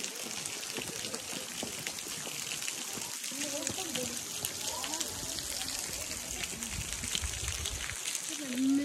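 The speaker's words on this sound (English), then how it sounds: "That water's spraying down on us. The waterfall." A waterfall at Emerald Pool in Zion National Park sprays down as a steady hiss of falling water and mist, with people talking faintly beneath it throughout.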